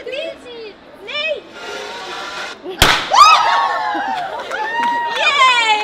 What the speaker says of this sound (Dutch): we hebben een hele mooie confetti knal gehad